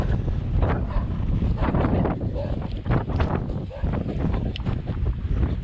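Wind buffets the microphone outdoors in the countryside on a windy day, a constant loud rumbling roar with gusty surges throughout.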